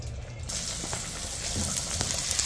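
Sofrito paste cooking in a pan for a Cuban potaje, giving a steady, close frying sizzle with soft crackles throughout and no talking.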